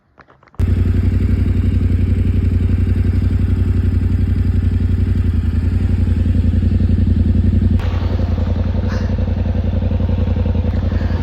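A motorbike engine starts and runs steadily close by, a loud, even throbbing drone with rapid pulsing that shifts slightly as the ride gets under way.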